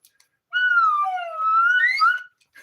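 A cheap plunger whistle sounds one sliding, warbling tone that dips and rises over about two seconds, loud and close with no talking.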